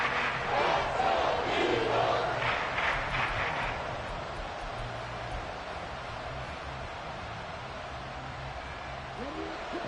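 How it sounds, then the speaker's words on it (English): A football stadium crowd at a playoff game against the 49ers roars loudly at first, then settles into a sustained, wide din that carries on to the end. "This crowd turning up the decibel level."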